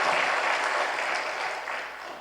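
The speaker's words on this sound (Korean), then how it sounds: "다시 한번 박수로" Congregation applauding a church choir during a Sunday worship service, a dense, steady wash of clapping from a large crowd that fills the whole moment and fades slightly at the end.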